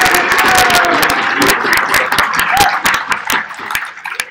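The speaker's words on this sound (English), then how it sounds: "So round of applause for you guys," Convention crowd at Steam Con US applauding the attendees and organisers, dense clapping with sharp individual claps and some cheering, tapering off near the end.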